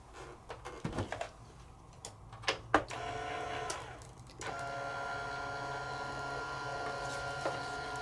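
A Sizzix Big Shot Express electric die-cutting machine starts after a few sharp clicks and knocks, then runs with a steady mechanical motor hum that carries on through the rest of the clip.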